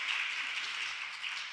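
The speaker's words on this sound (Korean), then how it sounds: "우리 한번 뜨거운 박수로 우리 청년의 하나님 자랑을 듣도록 하겠습니다" Church congregation applauding at a Friday late-night prayer service, a steady wash of many hands clapping at moderate volume, sustained and even without voices.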